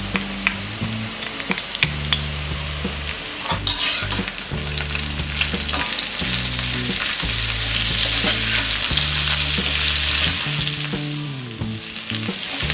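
Pointed gourd (parwal) fries with asafoetida and salt over a medium-to-high flame until crisp, a loud, continuous sizzle with stirring scrapes, while background music plays throughout.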